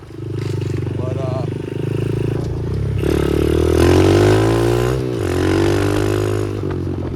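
A Yamaha TTR110 pit bike with a big bore kit, running rich, revs loudly and close by, its engine note climbing and falling through several pulls.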